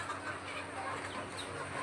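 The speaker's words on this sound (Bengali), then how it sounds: "এই যে এটা হচ্ছে করকনাথ মোরগটা" A Kadaknath rooster in a pen behind a grille gives soft, low clucks, faint and a little distant over a quiet background, lasting only a moment.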